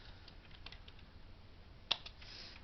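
A computer keyboard is typed on in a few soft, sparse keystrokes with one sharper click, heard close and quiet against a low background hum, with no talking.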